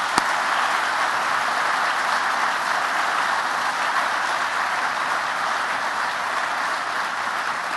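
A large audience applauds New Orleans police officers during the mayor's 2017 State of the City address, with dense, sustained clapping that holds steady for several seconds and no voices over it.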